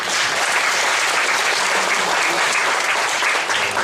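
Loud, dense applause from a church congregation welcoming a pastor, a continuous wash of many hands clapping close and full, steady for the whole span without a voice over it.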